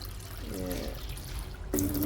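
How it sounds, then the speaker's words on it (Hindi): About one litre of water is poured into a cooking pot in a steady close trickle whose pitch shifts as it fills, with a short burst of voice near the end. "तकरीबन 1 लीटर मैं पानी डाल लूँगी।"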